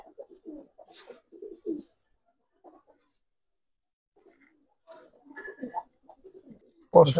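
Soft, low coos from Giribaz and coloring pigeons come in short bursts with quiet gaps, close by, ending in a louder sudden burst.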